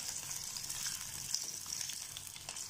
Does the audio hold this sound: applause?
no